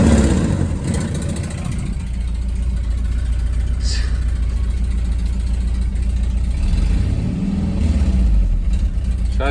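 A Volkswagen Vanagon engine with an exhaust leak runs loud and close, rumbling low with blips of revving and a raspy, ticking exhaust tone throughout.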